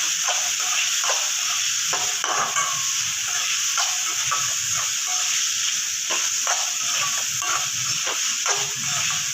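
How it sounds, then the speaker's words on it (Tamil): Ground paste of ginger, garlic, green chili, coriander and mint sautéing in oil, a loud steady sizzle with regular scraping strokes of a spatula, close and continuous. "நல்லா பச்சை வாடை போகிற அளவுக்கு வதக்கிக்கலாம்"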